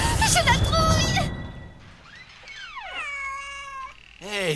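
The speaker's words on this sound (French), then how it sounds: "C'est un chat. Vous reconnaissez pas un miaulement de chat?" A cat meows several times with long, wavering cries, following a burst of noisy activity; a final meow rises near the end.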